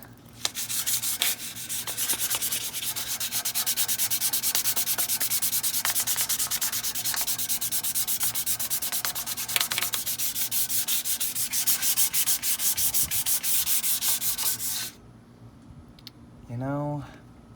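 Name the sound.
sanding metal exhaust tip with sandpaper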